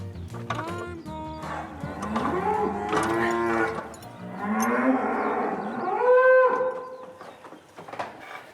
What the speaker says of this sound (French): il est temps de s'occuper des vaches